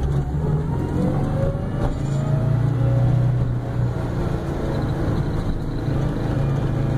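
Steady engine drone and road rumble from inside a car with STI suspension as it drives along, a continuous close hum with no talking.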